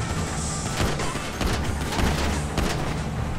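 Gunfire in a Grand Theft Auto game during a car chase, loud repeated cracks and bangs at an uneven pace over a thick rumble of engine and action noise.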